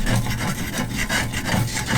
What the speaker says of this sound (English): just loosen it, try to scrape as much of that off